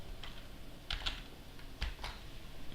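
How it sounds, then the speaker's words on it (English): Short clicking bursts from a computer keyboard as a command is typed on a Fedora 42 workstation, with a few quick, quiet keystrokes spaced unevenly and no talking. "so I can type ROCm info."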